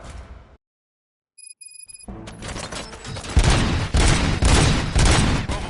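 Gunfire in the Robocop: Rogue City video game: after a chime and a brief silence, loud, dense bursts of shots and booms erupt and build into a sustained, close fusillade with no talking.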